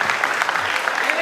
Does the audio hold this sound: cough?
no